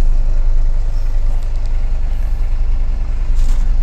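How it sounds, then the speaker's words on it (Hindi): A truck engine idles steadily and loud right after being self-started, a continuous low diesel rumble filling the whole stretch with no other sounds over it. "यहाँ पर देख सकते हो गाड़ी स्टार्ट हो चुकी है"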